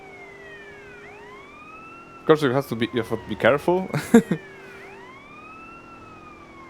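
A police siren wails in the GTA San Andreas video game, rising and falling continuously in the background throughout while someone talks over the middle portion.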